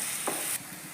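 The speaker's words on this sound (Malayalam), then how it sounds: "ഇതിലിപ്പോൾ ഇഞ്ചിയും വെളുത്തുള്ളിയും ഉള്ളിയാണ് ഞാനിപ്പോൾ വാട്ടുന്നത്" Onion, ginger and garlic sautéing in a pan, a steady close sizzle with one quick stirring scrape, the hiss dropping in level partway through.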